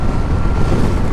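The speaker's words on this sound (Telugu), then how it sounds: "చూసారా స్కూటర్ అనేది దూసుకుపోతుంది" A Hero Vida electric scooter accelerates at full throttle, and loud rushing wind noise from the ride dominates over a faint, steady, high motor whine, with no talking.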